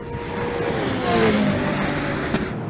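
Drag race between a modified Audi R8, a McLaren 720S and a GTR, a loud close engine roar that swells and holds, like cars passing at speed, with no talking.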